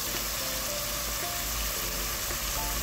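Walnuts sauté in a small amount of oil in a pan while fesenjan stew is being made, giving a steady, even sizzle and hiss that continues throughout at close range.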